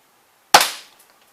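A single sharp airsoft gun shot fired in a slow-motion experiment with Germ-X hand sanitizer, loud and close, with a quick decaying tail and no talk.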